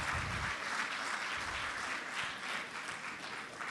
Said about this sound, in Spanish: Yo les pido a todos que lo recibamos con un fuerte aplauso